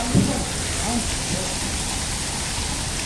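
Heavy rain pours down in a dense, unbroken roar, with a brief voice near the start.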